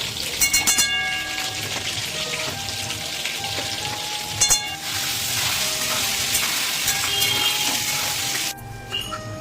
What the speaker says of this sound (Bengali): আলুগুলো যতক্ষণ ভাজা হতে থাকবে